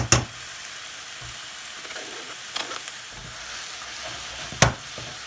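Onions returned to a pan with soft-cooked mushrooms fry with a steady, quiet sizzle, broken by a few sharp scraping stirs near the start, middle and end.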